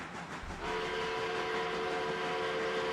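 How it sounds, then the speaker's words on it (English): A chime steam locomotive whistle sounds a loud, sustained multi-tone blast after a brief onset and holds steady to the end. "Coincidentally, that particular whistle sat in my office"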